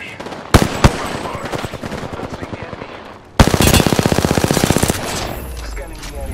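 Rapid automatic gunfire rattles in a first-person shooter video game, a brief burst, a pause, then a louder sustained stream of evenly spaced shots up close.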